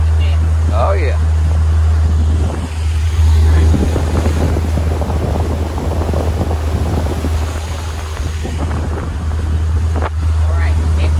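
A motorboat engine drones steadily as the boat is driven, its low continuous hum mixed with wind buffeting the microphone, while people talk over it.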